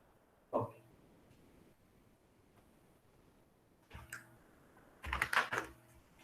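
Keys on a computer keyboard are tapped in sparse, quiet bursts: a single press early on, then a short cluster and a denser flurry of clicks toward the end, heard close in an otherwise hushed room.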